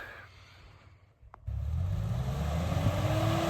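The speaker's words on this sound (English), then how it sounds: "that's the right amount of throttle. Let it sing." A Pajero Mini's small engine revs hard climbing a loose, deep, steep volcanic slope, surging loud and steady after a brief near-silent pause and rising in pitch as it climbs.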